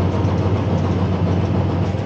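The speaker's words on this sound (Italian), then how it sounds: "Trattore con l'imballatrice." A farm tractor with a hay baler runs in the field during first-cut haymaking, giving a steady, loud, low engine drone with rhythmic mechanical knocking throughout.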